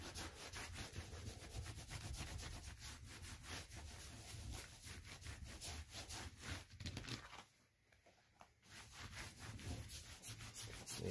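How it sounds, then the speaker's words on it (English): Wool prefelt with extra fibres laid on top, rubbed by hand over a resist while a felt vessel is made: a steady, dense scrubbing swish that keeps going, dips briefly near the end, then resumes, close and alone. "So I'm just going to rub this one more time."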